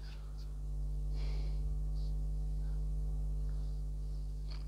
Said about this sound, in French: Le ventilo siffle beaucoup. On dirait qu'il y a un truc de coincé dedans